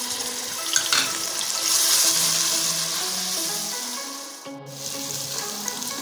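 Onions with ginger garlic paste fry in oil for an egg curry, a steady close sizzle with stirring scrapes, a brief dip and a splash partway through.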